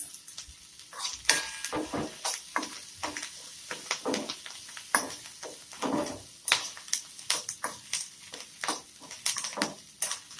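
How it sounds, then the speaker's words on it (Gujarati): Tempering spices fry in Amul butter in a hot pan with a steady sizzle, broken by frequent sharp clinks and scrapes of a spoon stirring against the metal. "અમૂલ બટરમાં એકવાર ચોક્કસ વઘાર કરી જોજો"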